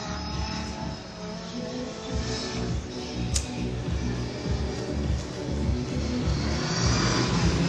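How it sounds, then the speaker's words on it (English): Drift car with a 960 horsepower 2JZ-swapped Nissan S13 engine at a drift practice event, a steady loud engine roar running throughout, with one sharp transient near the middle. "CH Loizu going up to the start with his 960 horsepower 2JZ S13."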